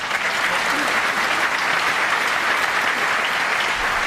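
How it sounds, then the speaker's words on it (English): A knowledgeable snooker crowd at Wembley applauds during a Masters 2009 quarter final between Ronnie O'Sullivan and Ali Carter, a dense, steady wash of clapping that holds at full strength throughout. "The applause, this knowledgeable Wembley crowd telling you that that was frame ball"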